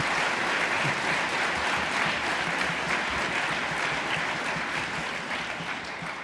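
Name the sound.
audience applause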